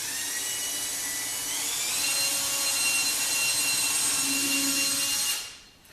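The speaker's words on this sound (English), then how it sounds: "drill a hole into the particle board" A high-pitched power drill whines steadily as it bores into particle board for a subwoofer box, running continuously for several seconds before cutting off abruptly.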